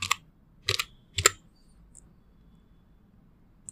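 Keys tapped on a computer keyboard while entering a PowerShell command on Windows Server 2025: three short bursts of clicks near the start, then quiet with a couple of faint ticks.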